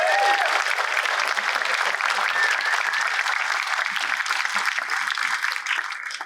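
Crowd at a commencement ceremony applauding the Parks and Recreation staff, loud dense clapping from many hands sustained for several seconds before tapering off at the end, no speech over it.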